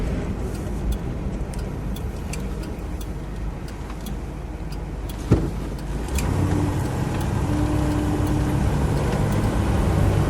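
A 1953 Buick Roadmaster convertible cruises along with a steady low road and engine rumble from inside the car, broken by faint ticking and a brief knock, and a light tone rises near the end.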